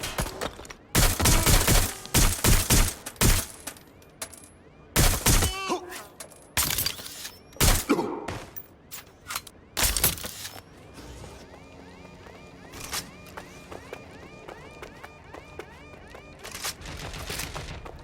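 Gunfire in the shooter game Watch Dogs Legion, rapid loud bursts of shots in clusters early on, thinning to sparser, quieter fire and background game sounds later.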